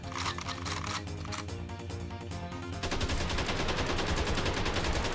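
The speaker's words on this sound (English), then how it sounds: "I'm gonna just use the gun on this guy" Rapid, continuous gunfire from the video game Jack Styler rattles on for several seconds, dense and loud, rising slightly in intensity midway, with no talk over it.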